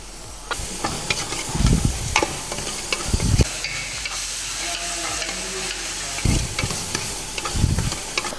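About fifteen peeled garlic cloves hitting hot oil for Ramadan nombu kanji, a loud close sizzle and hiss with bursts of stirring and spoon scrapes, no talk.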